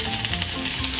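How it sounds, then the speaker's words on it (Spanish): Chopped onion sizzles in melted butter in a frying pan, giving a steady, close, crackling hiss throughout with no voices. "en un sartén le ponemos manteca sin miedo, dejamos que se derrite y le ponemos la cebolla con cuidado"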